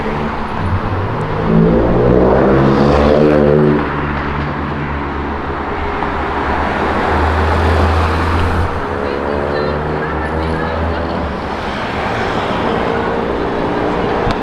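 A first-generation Porsche GT3 RS with a 500-horsepower, 4-litre flat-six engine makes loud, close exhaust noise, rising and falling in pitch through revs with deep rumbling underneath.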